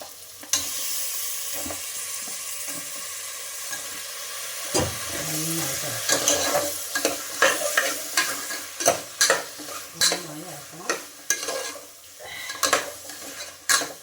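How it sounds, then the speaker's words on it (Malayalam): Chicken for biryani frying in a pan, a loud close sizzle with repeated clanking stirs and scrapes of a utensil against the metal pan, growing busier and more rhythmic in the second half, no talking. "എപ്പോഴും ഇങ്ങനെ നന്നായി വറുക്കണം കേട്ടോ ചിക്കൻ നന്നായിട്ട്"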